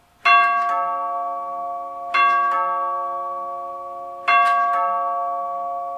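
NuTone two-note long tube door chime at a front door rings three times, each strike a bright, clear metallic tone followed by a second note, with long resonant tails that hang and overlap between strikes.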